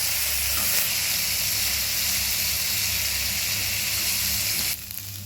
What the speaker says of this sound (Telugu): ఇప్పుడు అదే నూనెలో బీరకాయ తొక్కలో వేసుకోవాలండి.